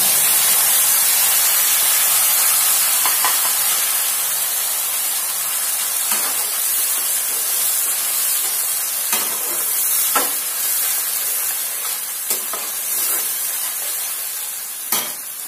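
Onion, garlic, ginger and green chili paste frying in hot oil for chana masala: a loud, continuous hiss and sizzle with occasional spoon scrapes and stirring taps, close to the pan.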